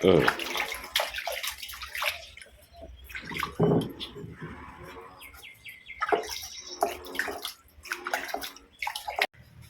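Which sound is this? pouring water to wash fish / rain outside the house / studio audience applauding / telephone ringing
pouring water to wash fish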